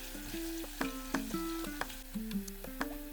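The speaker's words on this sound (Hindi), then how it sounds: "हरी मिर्च ऐड करेंगे। आधा मिनट भून लेंगे।" Garlic, ginger and green chilli sizzle quietly in hot oil with a steady crackle, while a spoon taps and scrapes the pan several times.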